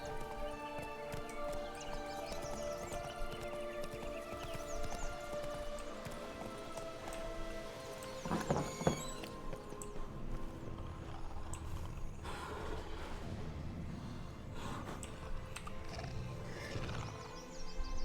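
A horse trots in The Witcher 3, its steady clip-clop hoofbeats running continuously beneath a dense bed of game music and ambience.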